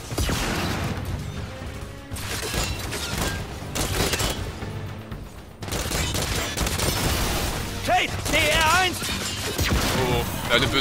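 Rapid weapon gunfire in the shooter game Gears 5, dense bursts of shots and crashing impacts over several seconds, with talking woven through the firefight.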